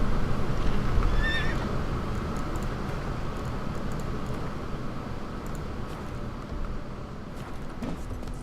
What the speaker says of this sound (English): Horse is not happy.